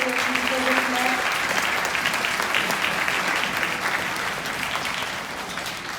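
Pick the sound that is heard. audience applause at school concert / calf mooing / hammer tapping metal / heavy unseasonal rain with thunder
audience applause at school concert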